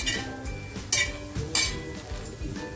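Cluster beans stir-fried in a dry pan with chilli, garlic, coriander and peanuts give a soft crackling sizzle, punctuated by a few sharp clinks and scrapes of the spatula against the pan.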